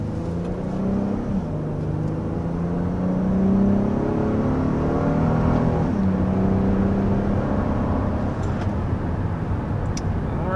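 A 2023 Honda Odyssey Sport minivan accelerates uphill to 60, its engine note climbing through steady gear-like steps as a continuous, fairly loud cabin drone with road rumble, no talking.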